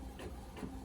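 An Epson Workforce 7720 printer printing, its mechanism whirring softly with two short swells of motion, faint and close, with no voices.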